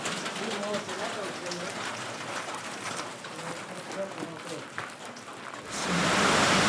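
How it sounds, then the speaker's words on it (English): Heavy rain pours outside a cafe, a steady hiss of falling water under people talking, then swelling louder and closer in the final second as the rain comes down hard. "The rain starts to come down hard, and we go deeper into the shelter of the cafe."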